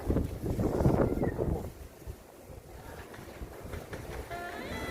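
Strong wind gusts across a microphone at an outdoor market in Mapo, Seoul, a rough, buffeting roar that is loudest at first and then settles into a lower, steady rush.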